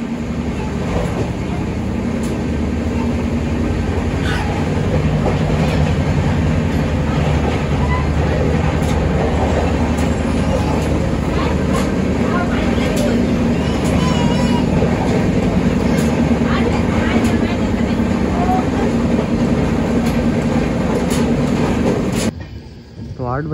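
Jhansi-Bandra Express sleeper coach rolling along the tracks at night, a loud, steady rumble and rattle heard from beside the open door, continuing without a break before cutting off abruptly near the end.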